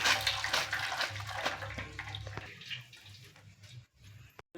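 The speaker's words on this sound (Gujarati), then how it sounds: "પાસ્તામાં વધારાનું પાણી છે ને એ બધું ભાટ જારી મૂકીને આવી રીતનું કાઢી નાખવાનું" Excess water is drained off boiled pasta. Water pours and splashes steadily at a fairly quiet level, then trickles and stops near the end.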